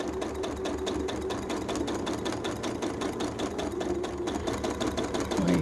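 A sewing machine runs steadily at a fast, even stitching rhythm, its motor hum and rapid needle clatter close and continuous throughout.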